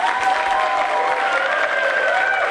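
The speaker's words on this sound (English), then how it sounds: "let's really give them applause here" An audience claps for young child composers at a concert night, a dense, steady ovation of many hands filling the room without a break.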